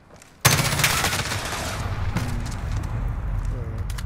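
Rapid automatic fire from a Vector submachine gun in Call of Duty: Modern Warfare, a dense sustained burst that kicks in suddenly and keeps going loud, with game sound effects and a voice under it.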